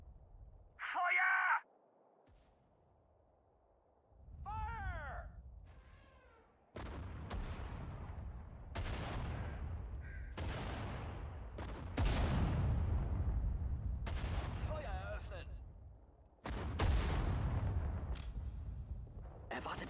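Artillery and gunfire from the World War II strategy game Sudden Strike 4 boom in a series of loud, sharp blasts, several close together, with German voice commands between the shots.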